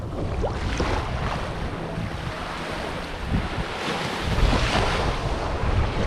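Ocean surf washes onto a wide, empty beach at Half Moon Bay in the Bahamas, a continuous roar of breaking waves mixed with strong wind buffeting the microphone and no voices.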